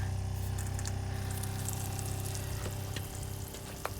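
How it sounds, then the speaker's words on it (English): An RV water pump in a 2016 Thor A.C.E. 29.3 motorhome runs during winterizing, giving a steady low hum under faint running water and a few small clicks. "I've turned on the water pump"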